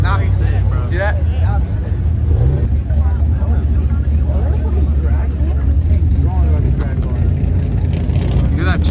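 At a car meet, a modified track car idles with a choppy cam, its deep, loping rumble steady and close throughout while people talk over it.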